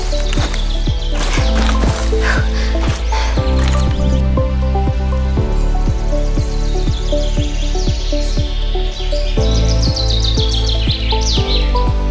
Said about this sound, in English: The ultimate natural bird sound mod adds video-like bird sounds to the Commonwealth.